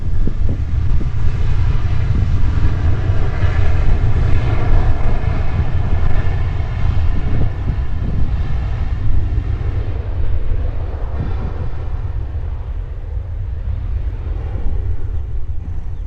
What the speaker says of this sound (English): Qantas off to Sydney, Qantas 595